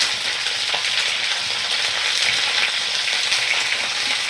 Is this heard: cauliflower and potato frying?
yes